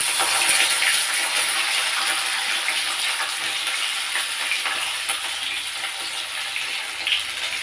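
Flat beans frying in hot mustard oil in a kadhai, a steady dense sizzle that holds loud and even throughout with faint stirring scrapes.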